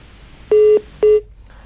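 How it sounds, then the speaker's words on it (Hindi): Two short electronic telephone tones, each about a quarter second and evenly spaced, sound as a phone line goes dead during a call-in to a Hindi news programme. The tones are clear and close, followed by near silence. "लगता है फोन लाइन कट गई है, मुद्दे की बात करते ही फोन कट जाता है।"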